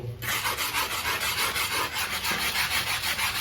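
A cleaning stone scrubs long-standing yellow stains on a toilet in a steady, rapid back-and-forth rasp, close and continuous, with no talking.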